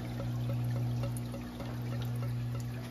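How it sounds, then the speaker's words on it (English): Water pours steadily into a trash-can mixing chamber of a 90-gallon reef tank setup, where a heater, wave maker and pump mix the salt water; a constant pump hum runs beneath the continuous splashing stream. "release the water down here to this chamber, to this food trash can right here"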